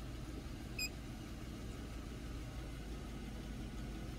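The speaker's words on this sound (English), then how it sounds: "it kind of sounds like it's like struggling to idle" An AUT 250 engine idles roughly and unevenly as its EGR/PCV system is tested, a steady low rumble that stays close and constant throughout with no talk over it.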